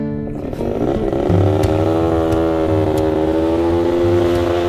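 A small four-stroke motorcycle on a road trip through Morocco idles and then revs up, its engine note rising and holding loud and close, with no talk over it.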